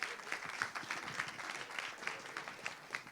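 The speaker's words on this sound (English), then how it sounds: "Can we give a big round of applause to Rodney?" Audience applause for a speaker named Rodney at a live political broadcast event, a steady wash of many hands clapping at moderate distance, continuous throughout with faint crowd murmur beneath.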